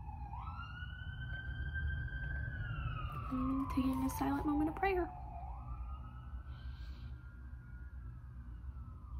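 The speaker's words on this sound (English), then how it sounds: "there are sirens right now." Distant emergency sirens wail in long rising and falling tones over steady background noise, while a person speaks briefly partway through.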